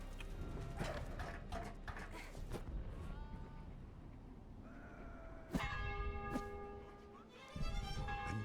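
A church bell tolls in the video game Valiant Hearts: Coming Home, struck a few times over a busy game soundscape with clip-clopping hooves, its ringing tones sustaining clearly toward the end.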